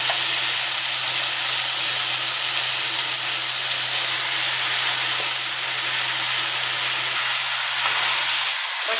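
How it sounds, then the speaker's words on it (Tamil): Mutton sizzles and hisses loudly in a pan with softened tomatoes, a dense, steady frying hiss that fills the whole stretch with no talking. "இப்போ நான் வந்து மட்டன் ஆட் பண்ண போகிறேன்."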